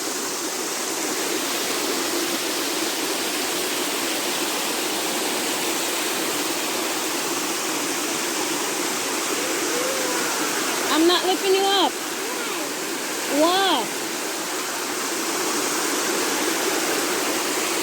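A waterfall in Hanover, Jamaica pours in a steady, loud roar of rushing water throughout, while people speak briefly over it near the middle.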